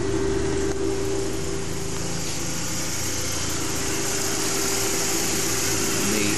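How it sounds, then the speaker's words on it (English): Steady, loud engine drone with a constant low hum, running evenly throughout without pauses. "And the engine's going pretty well."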